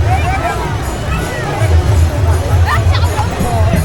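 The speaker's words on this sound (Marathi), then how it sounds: "अरे लय गर्दी करतात भाई लोक दर्शनासाठी." Pilgrims crowding for darshan at the Mauli palkhi procession in Alandi make a continuous babble of many overlapping voices, close and loud, with a steady low rumble of movement beneath.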